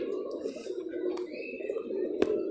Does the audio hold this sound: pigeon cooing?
yes